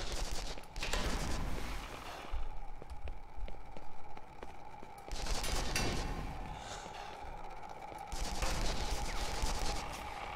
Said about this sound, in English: We have a decent machine gun now.